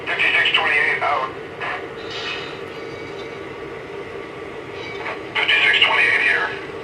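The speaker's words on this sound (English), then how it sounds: "Train is underway." A 1934 model passenger train set runs along its track, a steady mechanical rumble with louder bursts of rattling wheel noise at the start and the end, and faint background sound between them.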